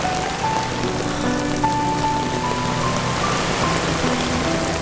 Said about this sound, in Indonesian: Tapi kan hujan.